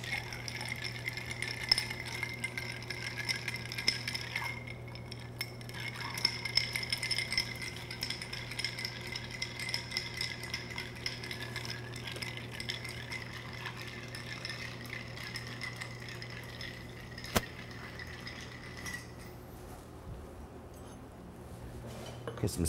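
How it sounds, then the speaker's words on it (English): Ice rattling and clinking in a mixing glass as a Kentucky Medicine cocktail with aromatic bitters is stirred, a steady quiet churn over a low hum that fades toward the end. "we will stir that up with some ice"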